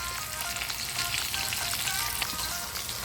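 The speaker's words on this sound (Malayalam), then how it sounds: "നമ്മൾ ചിക്കൻ പീസസൊക്കെ ഫ്രൈ ചെയ്യാൻ വേണ്ടിയിട്ട് കൊടുത്തിട്ടുണ്ട്." Chicken pieces shallow frying in oil for chicken mandi rice, a dense, bright, continuous crackle and sizzle heard up close, steady throughout with occasional sharper pops and no voices.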